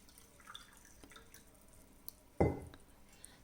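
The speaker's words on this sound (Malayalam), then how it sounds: "വെള്ളം ഒഴിക്കുന്നു." Water is poured into ginger lemon syrup in a glass to make squash, heard as one short, close splashing burst after a quiet, faintly dripping stretch.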